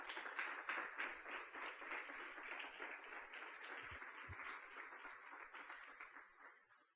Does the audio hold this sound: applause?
yes